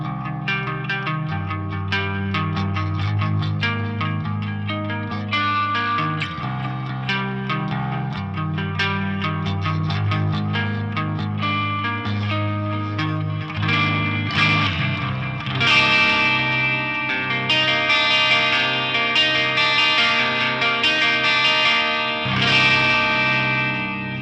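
Electric guitar through a Nembrini Audio Hughes & Kettner Coreblade amp plugin on a clean-ish tone with slight grit and effects, played continuously as strummed chords and picked notes, loud and alone.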